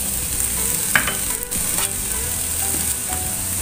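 Chilies stir-frying in a pan for a green bean stir-fry, giving a steady close sizzle with scraping stirring strokes throughout and no voices.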